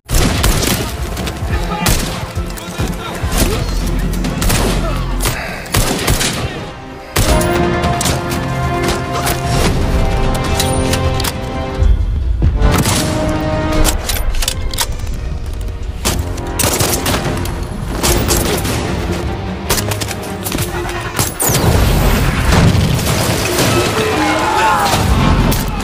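A sniper film's battle scene, dense with rapid gunfire volleys, machine-gun bursts and heavy booming explosions, loud and nearly continuous, with brief pauses and some voices mixed in.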